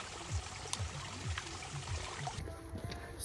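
A dog laps water on a hot mountain hike, a soft, steady rhythmic slurping and trickling close by, faint and continuous with no talk over it.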